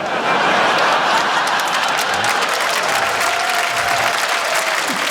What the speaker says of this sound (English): Cheering for no protests.